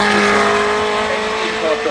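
A BMW M3 Touring accelerates hard up a rain-soaked hill climb, its engine note loud and continuous throughout, with a voice running over it.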